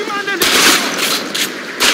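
Gunfire in the video game Call of Duty Modern Warfare 3 erupts in loud, close bursts of rapid shots, several clusters packed into a couple of seconds.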